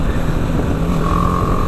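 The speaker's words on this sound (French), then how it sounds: "ce bruit moteur là qui me dérange un petit peu, ce côté rock qui apparaît quand j'accélère à fond" A BMW G310 GS motorcycle engine pulls hard under full throttle, a steady, loud, rough droning note with a raspy, croaky edge that continues without pause.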